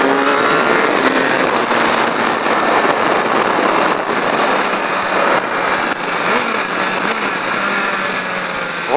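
A Triumph Daytona 675 motorcycle straightens up out of a turn and accelerates on a track, its engine a loud continuous roar with rising and shifting whine across several seconds.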